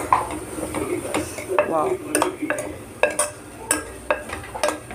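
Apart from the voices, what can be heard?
stirring garam masala into mutton keema in a pan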